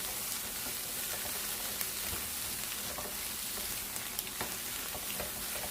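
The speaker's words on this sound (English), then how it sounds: "stir fry that for 3 minutes. We don't want to overcook our veggies." Vegetables stir-frying on high heat for egg fried rice, a soft, even sizzle with scattered faint spatula clicks, fairly quiet and unbroken by speech.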